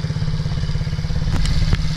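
An MRF 80cc motorcycle engine under throttle, a steady close-up mid-pitched drone with rhythmic pulsing, plus a couple of brief clattering knocks near the end.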